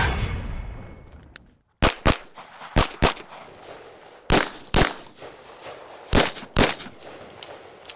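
Handgun shots fired at targets on a range during a competition-style draw and transition drill: sharp, loud reports in quick pairs and singles spread across several seconds, with no talking.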